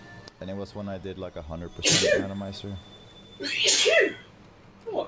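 Two sharp sneezes at a randomizer speedrun race session, the first around two seconds in and the second a little later, each loud and close, breaking through casual conversational talk before and between them.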